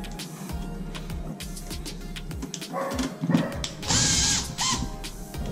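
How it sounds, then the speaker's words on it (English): Power drill whirring and ratcheting as 1/4 screws are driven into a KitchenAid refrigerator cover panel, short bursts of motor and clicking close by over a steady hum, with a dog barking in between. "You can use your drill with a 1/4 bit or use a regular 1/4 screwdriver to remove and install this panel."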